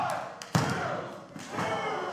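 A single heavy thud of a wrestler slammed onto the mat by a German suplex during a live wrestling event, a sharp impact with crowd noise and a commentator's voice around it.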